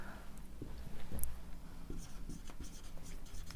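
A pen writes construction steps on paper in short, close scratching strokes with small taps, in an irregular rhythm and with no talking.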